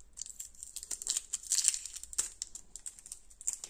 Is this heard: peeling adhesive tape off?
yes